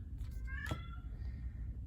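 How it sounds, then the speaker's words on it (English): A single short meow from a cat, fairly faint, over a low background hum. "Hear my kitty cat?"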